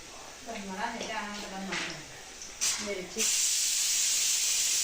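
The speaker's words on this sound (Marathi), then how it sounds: "कांदा जरा लालसर व्हायला पाहिजे तोपर्यंत तेलामध्ये परतून घ्यायचं" Onions sauté in hot oil, giving a soft hiss beneath a woman's speech at first, then a louder, steady sizzle that swells and carries on alone at the end.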